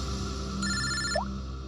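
A telephone rings in a scene from the Indian crime drama CID: a bright electronic ringtone tone rises briefly over a steady background hum, a single short burst without talk.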